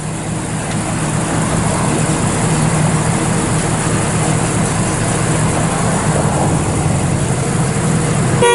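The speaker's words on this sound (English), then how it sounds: "Got duals and the factory transverse dual exhaust muffler out the back." A 1969 Chevrolet Camaro with a 350 V8 idles through a factory transverse dual exhaust muffler, a steady, low, even rumble heard close and alone throughout.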